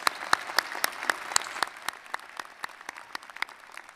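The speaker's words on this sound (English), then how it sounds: "Another round of applause for Dr. Schwartz." A commencement audience claps for a speaker, with crisp, fairly close individual claps over a lighter patter that gradually thins and fades over a few seconds.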